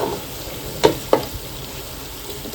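Food frying in a pan at home, a low steady sizzle with two sharp utensil knocks near the start, heard close and alone.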